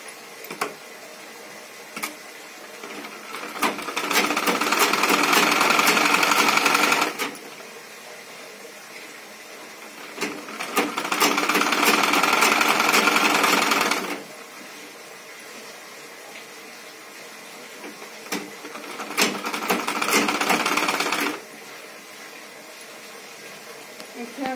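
A sewing machine stitches blouse fabric in three sustained whirring runs of several seconds each, separated by pauses, close and steady, with no talking over the stitching.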